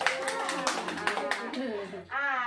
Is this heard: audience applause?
yes